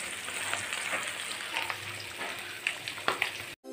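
Steady crackling sizzle of dried fish frying in used oil, with scattered pops and spatters rising toward the end; no voices.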